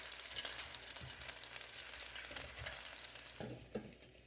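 Spicy Thai green curry chicken wings are turned over in an air fryer basket with a steady soft sizzle, broken by a few sharp clicks and knocks from the handling, heard close up with no voices.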